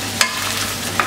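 Carbonara pasta is tossed quickly with egg, a brief hissing swirl in the pan with two sharp clinks of a utensil about a second apart.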